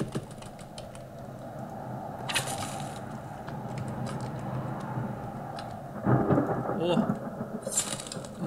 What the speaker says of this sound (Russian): Дождик начинается.